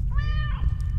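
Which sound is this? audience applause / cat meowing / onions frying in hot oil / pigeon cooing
cat meowing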